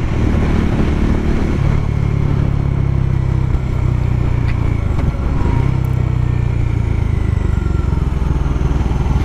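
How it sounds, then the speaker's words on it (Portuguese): Bajaj Dominar 400 motorcycle engine pulling hard on a test ride, a loud continuous mid-pitched roar with shifting pitch and heavy wind rush, heard close and without talk. "Cara, essa moto ganha velocidade muito rápido."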